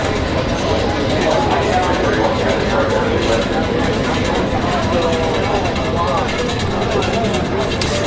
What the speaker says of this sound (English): So Jamie, what you're hearing is